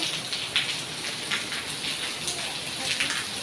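Steady rain pouring down at a temple in Thailand, a dense continuous hiss of drops on surfaces with occasional louder splashes, close and fairly loud.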